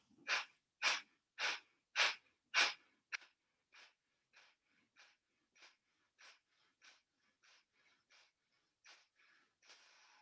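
Forceful, rhythmic breaths pushed out through the nose in a yoga breathing exercise, about fifteen sharp bursts, loud at first and then softer and quicker, close and alone with no talking.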